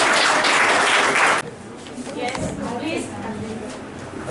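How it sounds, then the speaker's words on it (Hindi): A burst of applause from a crowd at a college blood donation camp in Nagda, India, for about a second and a half, then it fades into room noise and murmuring. "आप लोग एक बार रोटरैक्ट क्लब की प्रेसिडेंट और अपने लिए तालियां बजाओ"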